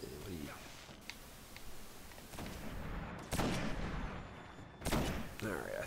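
Gunfire from the video game Destiny during a heroic strike against the Archon Priest, bursts of shots and impacts over a busy game soundscape, with a voice talking through parts of it.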